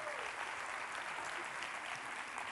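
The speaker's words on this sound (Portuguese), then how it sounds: "Uma salva de palmas para Fábio Inácio." Audience applause after a talk at a social media hackathon, a continuous, fairly faint wash of clapping heard from a distance.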